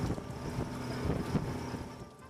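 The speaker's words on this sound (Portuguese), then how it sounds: "Saímos de Florianópolis de lancha com rumo para Arvoredo." A motorboat cruises from Florianópolis toward Arvoredo at sea, its engine droning low and steady under wind buffeting the microphone.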